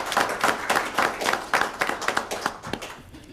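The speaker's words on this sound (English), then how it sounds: "So perhaps we give them a round of applause despite them not being here tonight." A small group at a City of Cornwall council meeting claps, a close, uneven run of distinct hand claps that thins out and fades toward the end.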